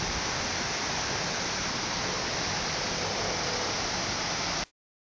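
Heavy storm water after a cloudburst pours down a street gutter into a catch basin, giving a dense, steady, loud rushing roar without pause before it cuts off abruptly.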